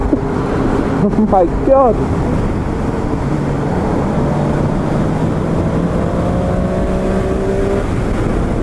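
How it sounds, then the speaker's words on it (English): Motorcycle, a KTM 790 Duke or Triumph Street Triple 765 R, accelerating hard from 30 to 60, a loud rising engine roar with quick gear changes and wind noise, and a brief excited shout near the start. "And now I want to see how fast it goes from 0 to 60. Well, 30 to 60."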